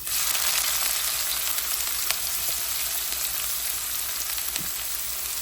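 Onion pieces sizzle steadily in hot oil in a pan, cooked for a shrimp curry; a loud, continuous close frying hiss with faint crackles and no talking.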